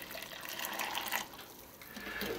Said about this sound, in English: And to that I'm adding in 1 cup, 250 milliliters of boiling water.